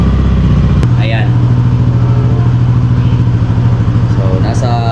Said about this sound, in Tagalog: So i-on muna natin yung motor.